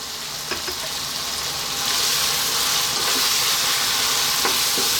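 Turmeric, cumin, chili and coriander powders sizzle in a hot pan for a chicken biryani, a loud, steady frying hiss with faint stirring scrapes, heard close and without talk.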